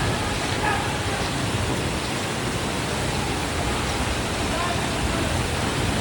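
Mother Falls, a tall waterfall in Aurora, roaring as a dense, steady rush of falling water that stays loud and unbroken throughout, heard from nearby.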